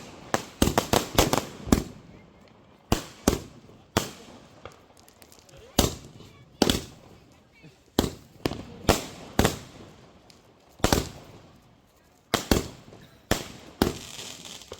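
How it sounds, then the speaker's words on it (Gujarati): A 50-foot Diwali firecracker string bursts outdoors in a long irregular run of sharp, loud bangs and pops, some in quick clusters and others spaced apart, with voices in between. "ફટાકડો જોરદાર ફૂટવાનો છે."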